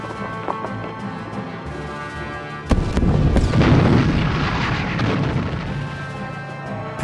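Cannon fire booms during the bombardment of the Al-Azhar mosque, starting with a sudden loud blast followed by a sustained rumbling roar with scattered clattering impacts.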